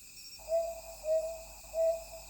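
A brown hawk-owl hooting at night in the forest of Gyeongju's Namsan, a clear mid-distance two-note call repeated three times at a steady pace over a faint insect hum.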